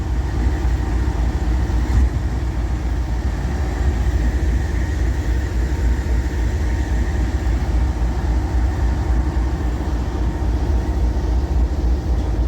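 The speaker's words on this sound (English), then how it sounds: "That was just the engine idling up to build air up." A train locomotive's diesel engine idles up to build air pressure while stalled on a hill, a steady, loud, continuous low rumble with an even drone throughout and no voices.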